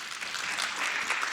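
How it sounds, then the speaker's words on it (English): Conference audience clapping steadily, a moderate wash of applause from a room full of people, fairly even throughout with no voices over it. "A round of applause."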